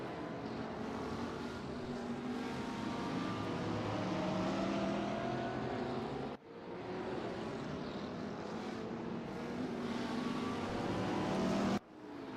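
Race cars at the Brünnchen section of the Nürburgring in the RaceRoom racing game, engines droning and passing with a steady broad roar, broken by two abrupt cuts, amid ambient track noise and no talking.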